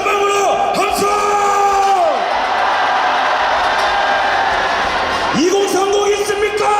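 At an outdoor political rally opposing a presidential impeachment in Gwangju, a large crowd roars and cheers loudly and continuously, with amplified speech over a loudspeaker at the start and end.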